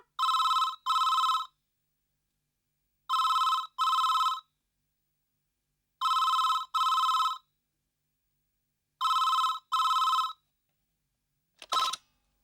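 A telephone in a Tamil TV serial rings in four evenly spaced double rings, clear and alone against silence, followed by a brief clipped start of a fifth ring.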